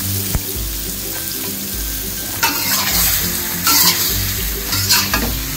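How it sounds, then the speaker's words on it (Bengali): Prawns and chopped onions sizzle loudly in a pan as they are fried until browned, with a steady hiss broken by scraping, clattering bursts of stirring up close. "এটা একটু বাদামি করে ভেজে নেব চিংড়ি মাছটা আর পেঁয়াজটা"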